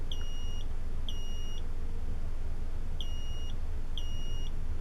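Four short, high electronic beeps from a smoke alarm converted into a water alarm, evenly spaced about a second apart in pairs, over a steady low background hum.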